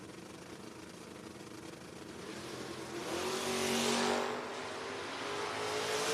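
Drag race at a strip: a 1968 Mustang against a Vega, engines rising to a loud roar around the middle and holding a steady drone, with crowd-level background noise and no talk.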